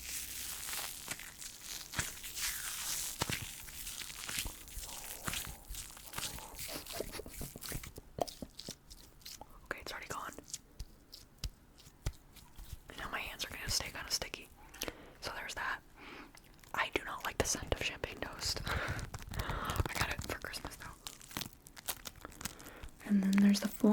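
Floam being squished and crunched close to the microphone, a run of irregular crackling, popping and squelching bursts, with soft whispering in between.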